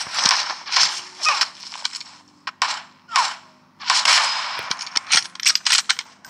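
Gunfire in the PUBG battle royale video game: sharp bursts of shots in quick clusters, several single cracks and rapid volleys separated by short pauses, loud and close over a low steady game hum.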